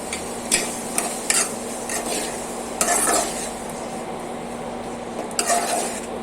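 A spoon scrapes and stirs ginger-garlic paste through a sizzling pan of tomato egg curry. The frying hiss is steady, with occasional sharp clinks of metal on the pan, close and fairly loud, and no one speaks.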